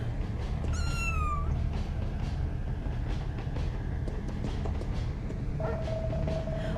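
Kitten in the video game What Comes After gives a rising-then-falling meow early on and a second short mew near the end, both over a steady low rumbling background of train noise.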